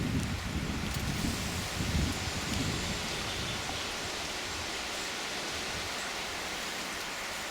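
Strong wind roars through a forest, a dense steady rush of noise with rustling leaves as trees bend, buffeting the microphone, with no voices.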